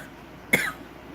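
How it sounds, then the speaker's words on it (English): A single short, sharp cough bursts out close to the microphone against a quiet indoor background, over in well under a second. "I'm coughing."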